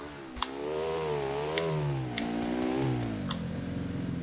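Motorcycle engine in Grand Theft Auto IV, loud and close, droning steadily with the pitch rising and falling as it revs, plus a few brief sharp knocks along the way.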